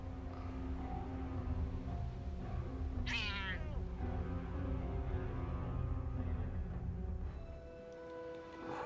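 Cats meowing in the video game Forspoken, a drawn-out rising meow near the middle over steady game music and ambient background, clear and close.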